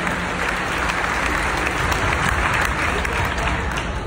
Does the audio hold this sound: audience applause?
yes